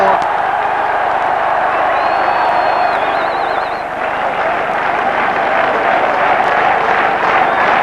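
Steady, dense roar of a cricket crowd applauding and cheering at a Pakistan vs Sri Lanka one-day international in Gujranwala as a batsman nears fifty, continuous and loud throughout with faint whistles.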